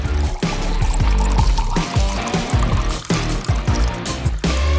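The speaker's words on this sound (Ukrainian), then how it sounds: "А тепер заливаємо все фантою." Fanta pours into a glass over fruit and berries, a loud, close, continuous fizzy pour with gurgling splashes for several seconds.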